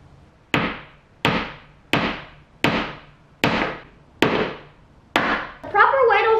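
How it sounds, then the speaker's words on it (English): Seven sharp hammer blows strike nails into wooden pieces of a picket fence planter at a steady, even pace, each ringing briefly; a voice begins speaking right after the last hit. "Now I need to nail the pieces together"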